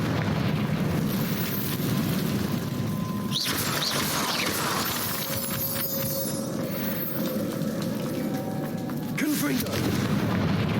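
Confringo fire spell blasts in Hogwarts Legacy, dense booming bursts over a constant roaring wash of game ambience, with a sharp crack near the start and another toward the end, loud and continuous, and a voice casting the spell.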